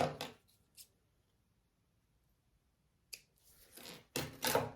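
Scissors snip fabric centres on a crossbody bag piece, with several sharp, close clicks in two clusters separated by a quiet pause.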